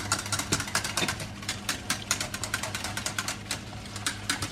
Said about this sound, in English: I want you to keep it going, don't stop whisking.